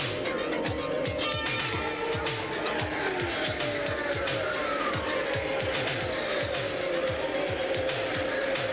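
Indy race cars at the 1989 Indianapolis 500, with Emerson Fittipaldi's Penske-built PC18 Chevrolet leading lap one, scream around the track in a steady, loud, unbroken engine roar with pulsing overlapping engine tones and crowd noise beneath.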